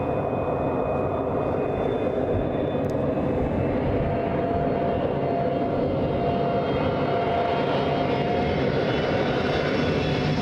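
A jet airliner at Los Angeles International Airport, a steady broad engine roar with a faint whine, holding loud and constant throughout, heard alone without voices.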